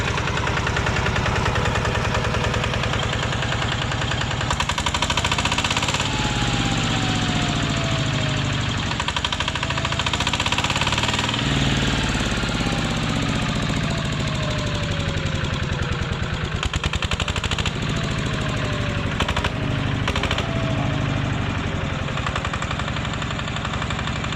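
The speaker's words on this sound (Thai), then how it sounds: "เสียงเครื่องนิ่มนะครับ" A small 14-horsepower Kubota engine runs close by at a steady, even idle, a continuous mechanical drone with a faint rhythmic knock and no pauses.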